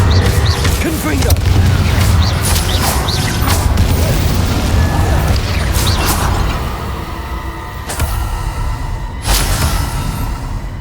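Confringo fire-blast spells in Hogwarts Legacy burst again and again in loud, close booms and crackling impacts over busy combat noise, with a character's voice heard during the fight.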